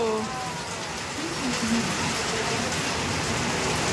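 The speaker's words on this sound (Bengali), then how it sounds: "একটু মুষলধারায় বৃষ্টি হচ্ছে" A heavy downpour falls outside a hotel room in Tajpur, a loud continuous wash of rain beating on surfaces, steady and close throughout.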